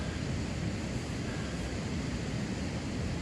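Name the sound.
waterfall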